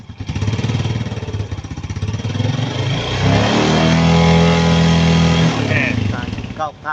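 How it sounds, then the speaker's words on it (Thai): A car engine, just jump-started from a flat battery, revs up from idle in a steady, loud, sustained roar lasting several seconds, with someone talking over it. "เดี๋ยวครูจะลองเร่งเครื่องดูสักหน่อยหนึ่ง"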